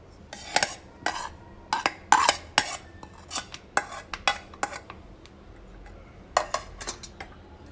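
Minced meat and onions going into a bowl for chutney kababs: repeated sharp clinks and scrapes of a spoon against the dish, irregular and close, with quiet gaps between.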